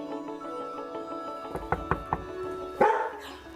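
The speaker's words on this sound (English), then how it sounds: "Got a dog." A dog in an old country house barks a few short, sharp times at moderate distance, then lets out one louder bark near the end, with no talk over it.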